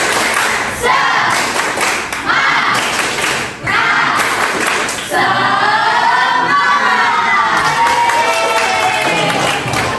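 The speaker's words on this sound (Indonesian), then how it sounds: "Tepuk semangat." Students in a classroom do a spirit clap: loud rhythmic group clapping and thumps from many hands, mixed with voices chanting together through much of it.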